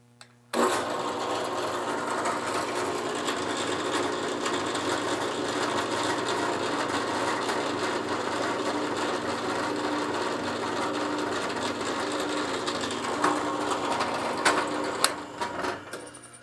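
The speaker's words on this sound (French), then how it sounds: "Il ne me reste plus qu'à percer mon trou." A drill bores a mounting hole for a QHY CFW3S filter wheel on a QHY163M camera, a steady high whine running continuously and close for over fifteen seconds before a few clicks as it stops.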